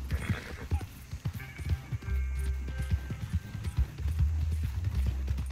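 Horse hooves in the Red Dead Redemption 2 video game, a steady clip-clop of galloping or trotting steps with low rumbling thuds, continuous and fairly close.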